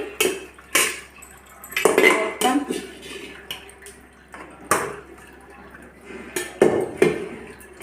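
Cooking pots and metal vessels are handled and set down while moringa leaves boil, giving several sharp clanks and clatters separated by brief pauses, loud and close.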